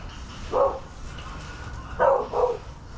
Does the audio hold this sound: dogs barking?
yes